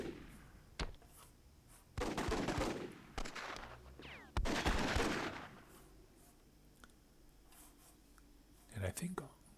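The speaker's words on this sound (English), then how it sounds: "Team Scratch is just bombing Team MP with RPGs" Rocket-propelled grenade fire in the Myth II: Soulblighter strategy game, heard as several loud bursts, each a sharp launch blast followed by a rumbling explosion, spaced a few seconds apart with quieter stretches between.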